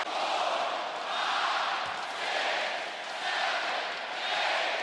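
A basketball arena crowd at an NBA playoff game between Milwaukee and Indiana roars on its feet, a broad sustained cheer that swells and dips in waves over a few seconds.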